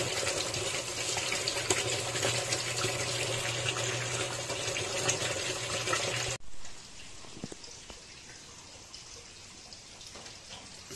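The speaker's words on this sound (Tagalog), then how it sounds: "So hintayin lang natin mga kamaster na mapuno yung tubig." A 0.5 hp water pump motor fills a tank with water. Steady loud rushing and splashing runs for about six seconds, then cuts off sharply into a much quieter trickle.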